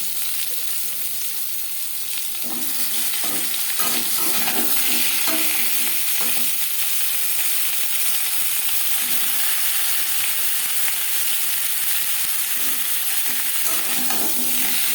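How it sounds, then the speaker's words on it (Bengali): Mango pieces with five-spice seeds and a dried red chilli sizzle steadily in a hot pan for mango chutney, with occasional scraping stirs, close and continuous throughout. "কোরনের সাথে আম বেশ ভালো করে মিক্স করে নেব আম হালকা করে ভেজে নেব"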